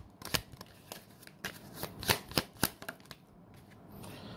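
Tarot cards being shuffled by hand make a quick series of close, crisp riffles and snaps, peaking in several sharp bursts before tapering off, faint and alone with no voice over them.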